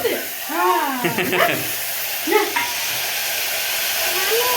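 Asafoetida tempering (vaghar) in hot oil gives a steady, bright hiss that runs beneath people talking throughout.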